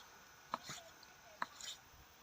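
Two sharp knife chops slicing pork skin thinly on a board, about a second apart, each followed by a short scraping slice, close and fairly quiet.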